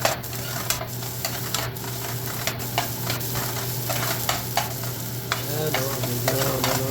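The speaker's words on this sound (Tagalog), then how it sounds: "Tapos haluin ulit natin yung sibuyas at bawang hanggang sa maluto." Chopped onion and garlic sizzle steadily in a hot pan while a utensil stirs them, scraping and clinking on the metal in a loose repeating rhythm, close and fairly loud with nobody talking.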